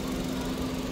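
A hot car engine runs at a steady idle, heard close up as a constant hum with a faint buzzing tone and no speech.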